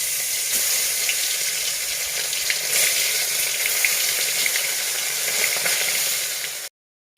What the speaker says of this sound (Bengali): এই পাশে তেলটা গরম হয়ে গেছে মাছ দিয়ে দিচ্ছি